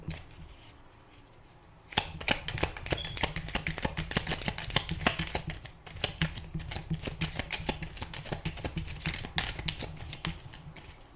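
Tarot cards shuffled by hand, a quick run of crisp riffling taps and slaps that starts abruptly after a quiet opening and continues steadily, close and moderately loud.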